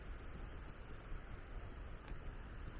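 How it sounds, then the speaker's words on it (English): Steady broadband rush of flowing water from Purissima Creek somewhere below a wooded trail near an 1860s California ghost-town cemetery, a continuous even wash with faint wind on the microphone and no talking. "I can hear a creek"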